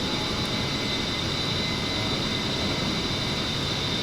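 A-10 jet engine held at full power in a flight simulator, a steady, even roar with a constant high whine throughout, with no talk.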